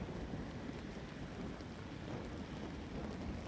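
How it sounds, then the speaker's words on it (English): Steady heavy rain pours continuously with low rumbling thunder mixed in, a dense, even wash of sound with no voices. "It is raining, but you are not getting wet."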